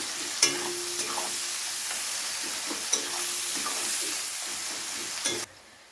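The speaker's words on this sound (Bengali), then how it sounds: "পেঁয়াজটাকে আমাদের হালকা লালচে করে ভেজে নিতে হবে" Chopped onions fry in a pan while being stirred: an even close sizzle punctuated by several sharp spatula knocks and scrapes, stopping abruptly at the end.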